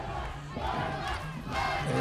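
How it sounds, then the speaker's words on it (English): A crowd roars and cheers at a Digicel Cup semifinal rugby match between Gurias and Vipers, a dense swelling wall of voices that rises in waves as a try is scored. "As we see the crowd here come alive"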